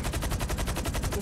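Rapid automatic gunfire in the video game GTA V, a loud, steady rattle of evenly spaced shots running through the whole moment with no voices.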